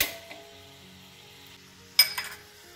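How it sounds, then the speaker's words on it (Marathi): A tempering of spices, asafoetida, chilli powder, turmeric and green chillies for chakvat (bathua) greens sizzles quietly, then a sharp hiss and clatter erupt as the hot phodni is poured into the dish. "आपण ही फोडणी त्याच्यामध्ये ओतून घेऊ."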